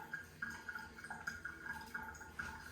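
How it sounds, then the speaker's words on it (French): Faint, steady trickle of water running in a toilet cistern in an abandoned seaside holiday camp, with soft repeated drips and gurgles throughout. "il y a de la chasse d'eau qui coule"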